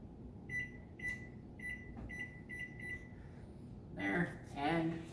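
An oven timer on a home pizza oven, not a brick oven, is set with a run of short, bright electronic beeps in quick clusters, close and clear. A voice begins talking right after the beeps stop.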